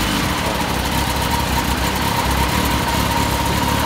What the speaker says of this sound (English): It's got the ZX14 motor and it's got 200 horsepower.